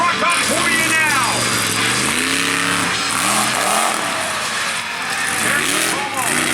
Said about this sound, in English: He will tear this truck up for you now.